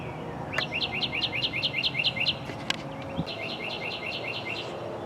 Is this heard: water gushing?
no